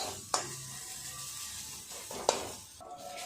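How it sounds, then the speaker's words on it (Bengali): Onion, garlic and ginger frying in leftover chicken oil in a wok, a steady close sizzle broken by two sharp scrapes of a stirring spoon against the pan, with no voices. "চিকেন রান্না করার পর কড়াই যে তেলটুকু ছিল সেই তেলেই আমি এটাকে ভেজে নিলাম"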